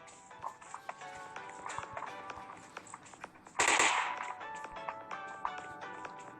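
Gunfire in the mobile battle royale game PUBG Mobile, a scatter of sharp shots ticking through a busy mix, with one louder burst midway that sounds nearer.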